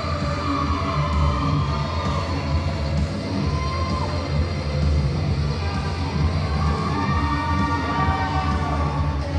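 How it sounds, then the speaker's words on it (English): A wrestling arena crowd roars and cheers for Chris Taylor at a live independent wrestling event, a continuous wash of distant crowd noise under voices. "Crowd is going nuts here for Chris Taylor"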